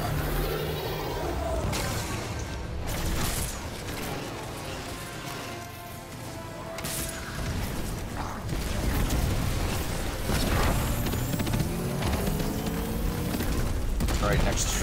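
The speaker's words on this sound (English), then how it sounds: "Alright, stop shooting." Video game raid gunfire, dense bursts of rapid shots and loud impacts that crowd the scene and come in irregular volleys, mixed with game sounds and voices.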